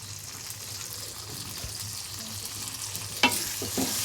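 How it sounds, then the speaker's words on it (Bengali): Ginger garlic paste fries with onions in a pan, giving a quiet steady sizzle, then the close scrape and clack of a spoon stirring near the end. "আদা রসুনটা একটু পেঁয়াজের মধ্যে বাইজা নেবো"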